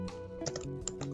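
Rapid, uneven keystrokes on a computer keyboard, a handful of clicks clustered in short bursts, close and fairly quiet, with no talking.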